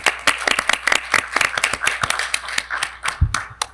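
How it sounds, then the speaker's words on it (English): A crowd claps in a brief round of applause, sharp hand claps fairly close, with a low thump near the end. "I think that deserves a round of applause."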